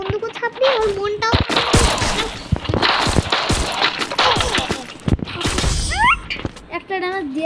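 Rapid bursts of gunfire from the video game Free Fire in lone wolf mode, with sharp cracks and clattering shots packed densely across the clip while a voice talks over them throughout.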